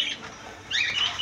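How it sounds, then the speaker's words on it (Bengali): Small caged birds such as Java sparrows, cockatiels and diamond doves at a bird and pigeon market chirp and squawk in short bursts, a louder cluster of high calls near the end. "জাবা পাখি, প্রিন্স পাখি, ককাটেল পাখি, ডায়মন্ড আপ ঘুঘু পাখি"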